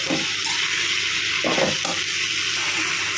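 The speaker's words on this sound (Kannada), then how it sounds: "ಈಗ ತೊಳೆದಿಟ್ಟಿರೋ ಮೆಂತ್ಯ ಸೊಪ್ಪು ಹಾಕ್ಕೊಳ್ಳೋಣ. ಚೆನ್ನಾಗಿ ಫ್ರೈ ಮಾಡ್ಕೊಳ್ಳೋಣ." Washed fenugreek leaves frying in a hot pan for a palya, giving a steady bright sizzle with a few short stirring scrapes and splashy bursts throughout.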